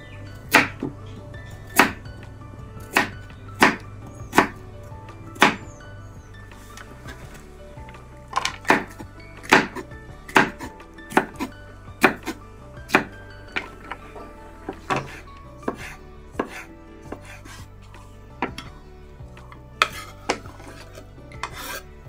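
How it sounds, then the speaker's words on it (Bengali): Knife chopping onion into thick chunks on a board for frying paneer, a steady series of sharp, close chops spaced irregularly, with a soft low hum underneath and no talking. "পেঁয়াজটাকে আমি কিন্তু একটু মোটা মোটা করে কাটছি"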